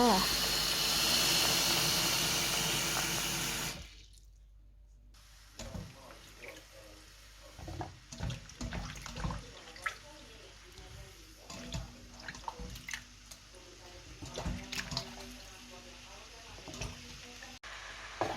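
Blanched termite mushrooms are rinsed under running water, with a strong rush of tap water at first, then quieter splashing, handling and drips as a voice talks over it.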